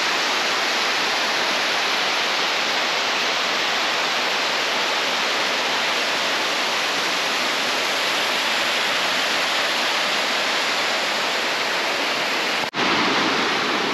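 A mountain waterfall on a forest trail in the Khamar-Daban range, a loud, continuous broadband rush of falling water heard close by, steady throughout with a brief handling bump near the end.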